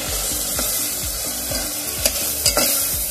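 Pav bhaji mixture with garlic is sautéed until golden: a continuous close sizzle under a rhythmic scraping of a spoon stirring the pan every half second or so, with a couple of sharper knocks near the end.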